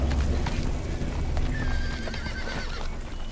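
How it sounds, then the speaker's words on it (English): Horse hooves clip-clopping at an unhurried pace alongside a loud neigh and whinny, set in an ancient Roman street scene from the TV drama Rome, with no talk. "I knew this kid wasn't going to peacefully make it to Caesar's on this fucking horse"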